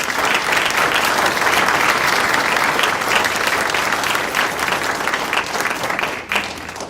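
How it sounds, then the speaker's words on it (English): A crowd at a community civic event applauds volunteers in a steady, full round of clapping that stays loud and even for several seconds before trailing off near the end. "Can we have a round of applause for them?"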